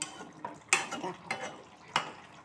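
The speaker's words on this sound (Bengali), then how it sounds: "একটু নেড়ে দিই। ঢাকনাটা একটু তুলেছি, নাড়ছি।" Koi fish cooking with cabbage in a pan gets stirred with the lid lifted, giving a few close scraping and clinking strikes of utensil on metal over a soft sizzle.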